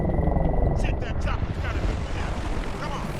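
Helicopter rotor thudding loudly and steadily in the video game Battlefield Bad Company 2, with dense gunfire-like bursts and game noise around it as a player talks over the action.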